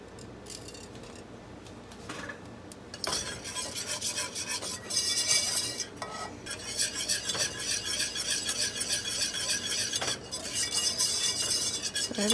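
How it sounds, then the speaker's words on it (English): A whisk works through a melted mixture in a bowl, giving a close, continuous rhythmic scraping and rubbing with occasional metallic clinks that grows louder partway through; no one speaks. "I'm going to go ahead and switch to a whisk to whisk in the next ingredients"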